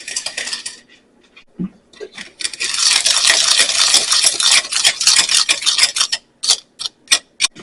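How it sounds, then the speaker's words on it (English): A spoon scrapes and stirs around a bowl, working a tablespoon of cinnamon into dry ingredients in a steady, close, rasping rhythm broken by a few light clinks. "Then the last thing we're going to add is a tablespoon of cinnamon. We're going to mix that up well."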